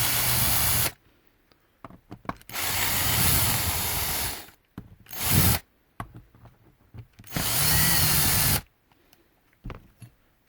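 Power drill bursts remove T15 Torx screws from a Schlage keypad deadbolt in three long whirring stretches separated by quiet gaps, close up, with small clicks and clatter between them.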